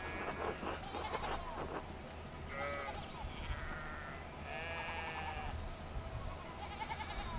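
Sheep bleat repeatedly in the medieval video game Pentiment, several wavering calls overlapping from different animals at moderate distance over a low background hum, with no talking.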